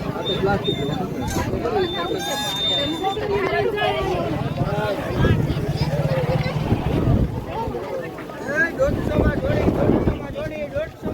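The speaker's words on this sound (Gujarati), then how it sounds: "પવન બહુ છે પણ" Gusty wind buffets the microphone in a low rumble while several people talk over it outdoors at the seashore, with waves washing in.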